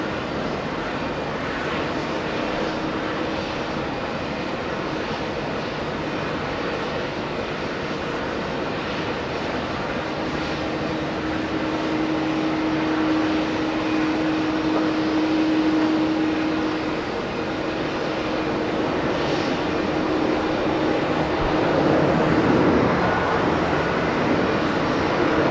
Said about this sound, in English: American 532 flying in from O'Hare International.